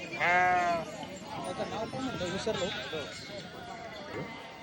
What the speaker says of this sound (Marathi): हे मेंढी माऊलीचं दर्शन करून घ्या मित्र बाळूमामाच्या